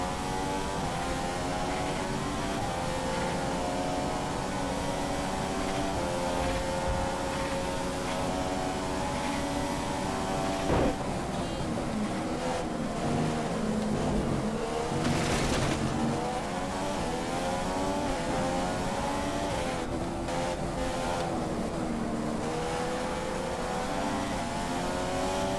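Race car engine in the F1 2015 video game at Monza, a loud, continuous high-pitched whine climbing and dropping through gear changes across the lap, with brief tire noise, alone without talk.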